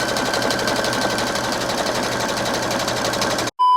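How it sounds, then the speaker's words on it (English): Sewing machine stitching around the elastic waistband of tapestry-fabric pants, a steady fast motor whir with rapid needle rhythm running continuously up close, then stopping abruptly near the end. "now I'm just going to sew around the top of the elastic band only."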